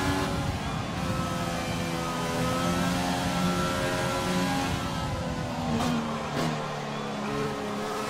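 Racing car engines from the F1 2020 video game at the Australian Grand Prix, a steady dense drone of several engines with shifting revs, a couple of sharp passes near the end, heard alone without talk.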